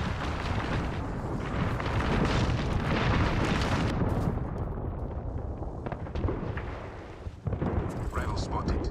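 Artillery strike in Apex Legends: a dense, sustained roar of overlapping explosions and rumbling booms pounding for most of the stretch, easing briefly before a final burst of blasts, with speech mixed in.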